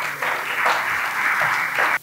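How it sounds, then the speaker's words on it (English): Audience applause at an official opening event in Nairobi, a steady wash of clapping from a crowd lasting about two seconds before cutting off abruptly. "Another round of applause."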